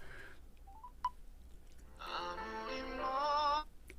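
A few short telephone dialing tones are heard as a call is placed, followed by a longer, steady electronic tone. The sounds are fairly quiet against a low background hiss.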